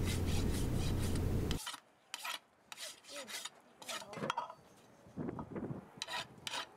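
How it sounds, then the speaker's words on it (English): A farrier's rasp scraping across a horse's hoof, first in a loud continuous stretch, then in a series of short separate strokes with pauses between, close up. "the farrier cleans up the appearance of the hoof with a rasp to make it look nice"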